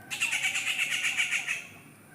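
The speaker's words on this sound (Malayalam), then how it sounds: "നോക്കി കിളിയായിരുന്നു ചിലയ്ക്കുന്നു" A bird perched in trees gives a close, harsh, fast-pulsed chatter lasting around a second and a half, then fades into soft background rustle. No voices are heard.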